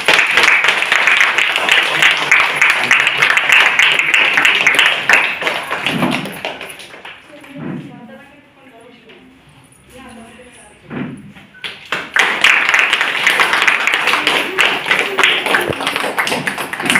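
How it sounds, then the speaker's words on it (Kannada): Audience applause at a felicitation ceremony in a Chintamani music college hall, loud dense clapping that stops midway, leaving quiet murmurs and a few thuds, then swells again to full strength. "ಕರತಾಳದೊಂದಿಗೆ ಚಪ್ಪಾಳೆಯೊಂದಿಗೆ"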